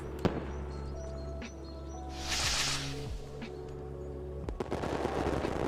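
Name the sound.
fireworks in a visual novel video game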